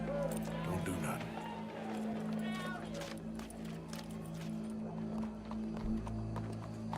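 Horse hooves gallop in Red Dead Redemption 2, a steady run of hoofbeats beneath a continuous droning tone, with people talking over them.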